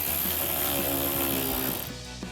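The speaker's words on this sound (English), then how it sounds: "ratchet, 8mm socket, tighten that down" A ratchet with an 8mm socket tightens the intake clamp on a cold air intake for a 2019–24 RAM 1500, making a loud continuous mechanical whir up close that cuts off near the end.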